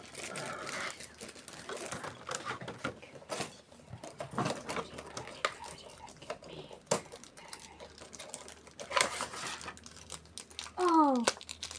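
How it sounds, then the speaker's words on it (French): Bubble wrap crinkling and rustling while a box of Heroclix figures is unboxed, with repeated crackles and rustles close by and a voice speaking over it. "Oh, waouh, du papier bulle."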